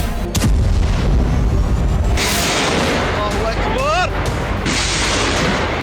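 Explosions from an Israeli bombardment in Syria boom loudly and close with rumbling blasts and crackling debris, accompanied by shouting voices and a whistling, wavering sound.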